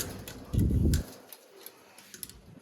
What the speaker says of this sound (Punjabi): ਦੇਖੋ ਟੌਰ ਨਾਲ ਕਬੂਤਰ ਰਹਿਣਗੇ ਹੁਣ ਆਪਣੇ